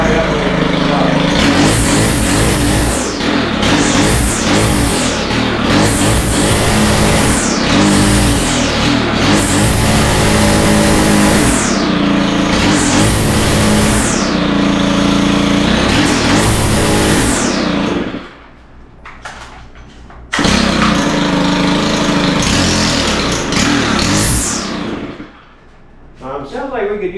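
Stihl FS111R string trimmer with a clutch fault and an out-of-tune carburetor, its small two-stroke engine revving up and down in repeated loud rising and falling bursts close by, with a brief drop to idle midway.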